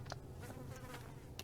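A housefly buzzes in the horror video game The Asylum, a continuous low droning hum, close and faint, with no talk.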